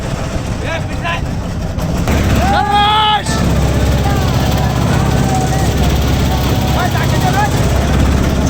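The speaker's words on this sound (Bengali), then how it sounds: "engine start" A boat engine on a trip through the Arial Beel wetland in Bangladesh cranks and catches, then settles into a steady, loud, low rumbling drone, with people shouting and talking over it near the start.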